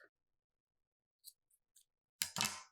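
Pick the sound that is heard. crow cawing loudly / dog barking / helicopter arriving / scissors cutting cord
scissors cutting cord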